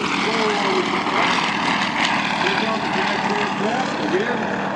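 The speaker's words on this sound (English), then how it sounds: "as soon as they lift off, they bring the landing gear up" Air show team aircraft taking off, a loud, steady engine drone with a slowly shifting pitch that fills the whole stretch, close and continuous with no pauses.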